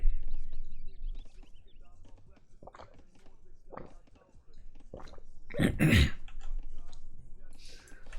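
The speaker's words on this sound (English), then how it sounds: "Trying to clear my throat here." A man clears his throat with one rough, harsh burst partway through, close to the microphone, between stretches of his own talk.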